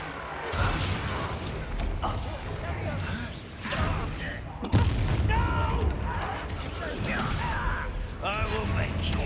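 A Confringo fire spell blasts in Hogwarts Legacy amid booming bursts and crackling impacts, with a sharp explosive hit midway and game effects layered under a speaking voice.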